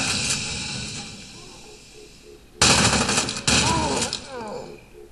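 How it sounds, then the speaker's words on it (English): Shotgun blasts in the first-person shooter F.E.A.R. 2, two sharp loud bursts separated by about a second, with game noise trailing after them and a quieter ambient stretch before. "He certainly reloads that shotgun."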